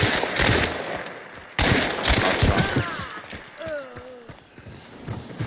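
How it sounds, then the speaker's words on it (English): Pistol gunfire in Hunt: Showdown, a burst of sharp shots in the opening seconds and another cluster later, mid-distance within a noisy game soundscape with whistling tones and other effects. "Pistols."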